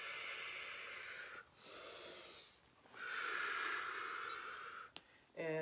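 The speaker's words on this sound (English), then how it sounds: "Deep breath." Slow, airy deep breaths drawn in and let out during a seated chair yoga stretch, each long hissing breath separated by brief pauses, close and fairly quiet with no talking.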